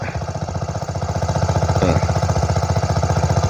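A small engine on a water pump runs beside a fish pond as the pond is drained. It gives a close, loud, steady chugging with an even rapid pulse that continues throughout, with no voices.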